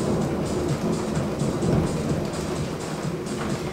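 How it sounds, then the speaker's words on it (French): Thunder rumbles outside during a home workout, a loud continuous low roll with rain-like hiss, heard alone without talk. "Je sais pas si vous entendez le tonnerre,"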